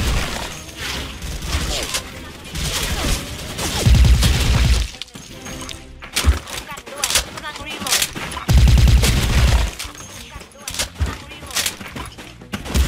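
A silenced M4A1 ACOG rifle fires in Special Force 2, sharp bursts and single shots cracking close and loud in quick runs, with someone talking in between and under the shooting.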